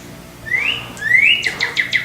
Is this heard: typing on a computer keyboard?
no